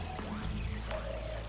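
Flood water pours and gurgles through rooms in the game Oxygen Not Included, a brief, fairly quiet watery rush with low rumble beneath.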